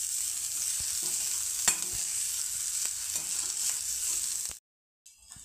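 Bitter gourd thecha with coriander being stirred and sautéed in a pan, a steady close sizzle with scraping stirs and occasional utensil knocks, ending abruptly in silence.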